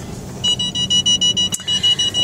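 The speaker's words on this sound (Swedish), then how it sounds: "Det piper om någon kör nära helt enkelt." A car's proximity warning beeps in a fast, regular series of sharp tones when another vehicle comes too close, with a brief click breaking the pattern midway and road noise underneath.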